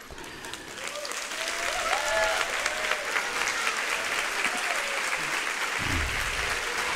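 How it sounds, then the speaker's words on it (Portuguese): Audience applause at a church sermon, a dense sustained clapping that swells and holds for several seconds, with a few voices mixed in. "Essas palmas que vocês deram é palma de gente que está com sono."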